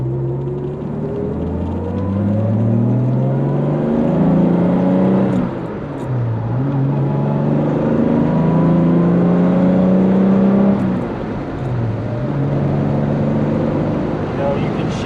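A 1968 Jaguar E-Type Series 1.5 coupe pulls hard up through the gears, its engine note climbing, dipping briefly at each shift and climbing again, loud and close from inside the cabin.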